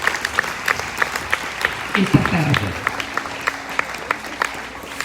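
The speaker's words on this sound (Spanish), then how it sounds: "Demos un aplauso al Señor." Church congregation clapping at an anniversary service, a steady round of claps with someone speaking over it partway through before the applause thins out.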